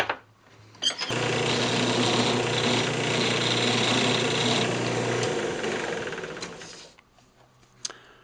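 A wood lathe turns a tenon on a yew box lid, a steady loud whir with a harmonic hum that starts abruptly after a brief tap, holds for about six seconds, then fades as the lathe stops.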